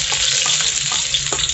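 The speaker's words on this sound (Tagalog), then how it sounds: "Gisa lang natin yung ating bawang." Garlic sizzles steadily in a hot frying pan for a chicken curry, a loud continuous hiss with a few soft stirring taps, close and alone.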